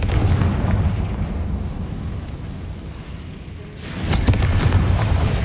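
Repeated Confringo fire-spell blasts in Hogwarts Legacy, heavy booming explosions with a dense low rumble, continuous and loud, with a fresh burst near the end.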